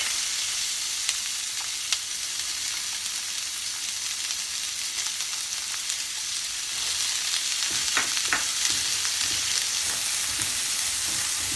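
Finely chopped onions sizzle steadily in hot oil for a dhaba-style egg curry, a continuous close frying hiss with a few brief stirring scrapes near the end and no talking.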